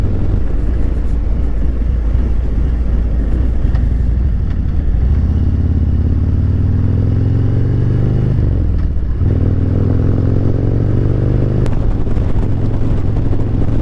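A 2021 Harley-Davidson Road Glide Special with a Stage 2 tune and Snake Venom engine cruises on a freeway at about 70 mph, its low engine rumble mixed with heavy, constant wind roar, the pitch dipping and rising briefly midway.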